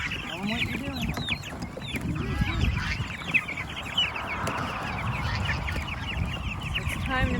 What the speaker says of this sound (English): It's time to move all the meat birds out of their brooders.